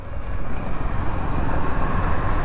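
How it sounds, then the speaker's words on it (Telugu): Heavy highway traffic, heard during a motorbike ride in India, makes a continuous rumbling roar of passing vehicles at moderate loudness, with no voices. "బాపురే, ఏం ట్రాఫిక్ ఇది."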